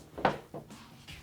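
A Murphy hidden bookcase pool door is swung open, giving a few soft knocks and wooden clunks with a faint creak, quiet and close.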